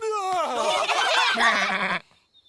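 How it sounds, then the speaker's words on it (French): A cartoon sheep bleats with a wavering, voiced cry that lasts about two seconds and then cuts off into silence. No talk is heard over it. "Que vient de dire le mouton?"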